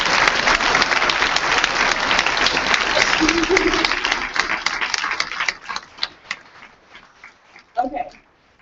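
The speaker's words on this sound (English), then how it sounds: "Give them a round of applause," A conference crowd at an immigrant youth empowerment event breaks into loud, dense applause that thins into scattered individual claps after about five seconds, then fades out, with a brief voice near the end.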